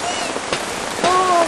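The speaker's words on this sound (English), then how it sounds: "It is letting up. Ooh, a little bit of hail action." Rain with some hail falling during a thunderstorm at a campsite, a steady close patter of drops on surfaces with a few sharper taps and faint whistling tones in the background.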